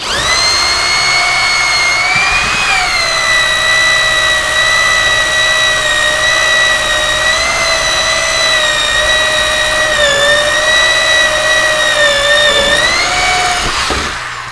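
A power drill with a hole-saw bit cuts steadily through the thick wall of a fish tank, giving a loud, sustained whine that dips briefly and ends abruptly, with no talking.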